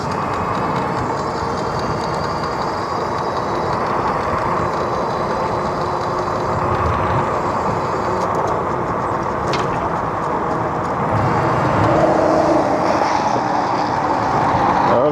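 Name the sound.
road traffic going by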